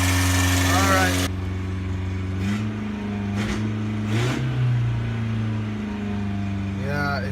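A 1985 Toyota Tercel parts car, unstarted for a year, runs at a high idle after a cold start, a steady close engine drone with a drop in pitch early on, while someone speaks over it.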